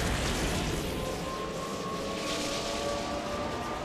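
Helicopter rotor and engine drone in the video game Metal Gear Rising Revengeance, a steady, loud mechanical whir with a faint whine, continuous throughout without speech.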